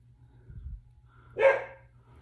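A single sharp dog bark rings out close by after a soft low thump, with quiet room noise around it.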